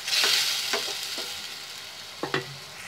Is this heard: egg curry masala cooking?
yes